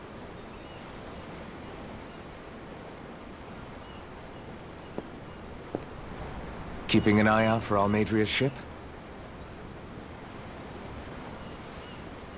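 Steady ocean surf washing in Tales of Arise, a soft continuous roar of waves with a brief spoken line in the middle.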